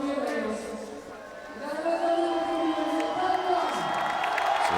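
Spectators at the FISE World BMX Park Final in Montpellier cheer and whoop for a rider's run, a steady loud crowd roar with shouts rising toward the end, mixed with a commentator talking.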